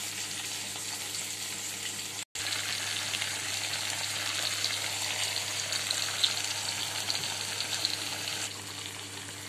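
Marinated fish frying in a pan with boiled potatoes and onions, a steady close sizzle and crackle that continues evenly throughout, broken only by a momentary dropout.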